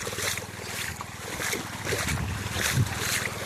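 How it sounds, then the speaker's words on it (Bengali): A machine pump pours water into a flooded field in rural Sundarbans, a steady rushing, churning wash with a low mechanical drone underneath, continuous and fairly close, with wind buffeting the microphone. "বন্ধুরা দেখুন, ওই যে জল ভরা হচ্ছে আর মেশিনটা আপনাদের দেখাচ্ছি।"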